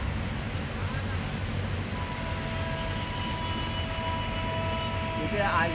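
A train pulling in at Daulatpur railway station, a continuous low rumble with a faint sustained horn-like tone near the end, heard from the platform at moderate distance without speech.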